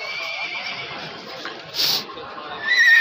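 A horse offered for sale at a livestock market lets out a short, bright neigh midway through, over faint background crowd noise.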